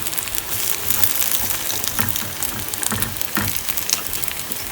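A vegetable suji omelette fries in a pan over medium-high heat, giving a close, continuous crackling sizzle with small pops and no voices.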